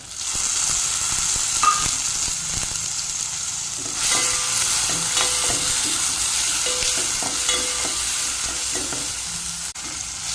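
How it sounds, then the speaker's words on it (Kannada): Tomato, green chilli and ginger sauté in a hot pan with a continuous sizzle and hiss. Scraping stirs sound now and then, moderately loud, and no one speaks. "ಟೊಮೆಟೊ ಕಾಯಿ ಮೆಣಸು ಶುಂಠಿ ಅದನ್ನೆಲ್ಲ ಕೂಡ ಸ್ವಲ್ಪ ಬಾಡಿಸಿಕೊಂಡೆ"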